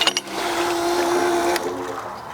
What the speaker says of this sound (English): now I want to pump until I can see the antifreeze